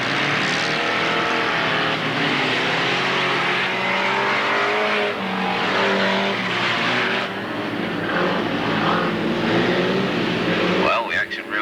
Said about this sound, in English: the action really hotted up with the bangers this afternoon